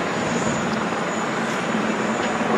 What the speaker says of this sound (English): And of course, this has the GE Gen X engines on it.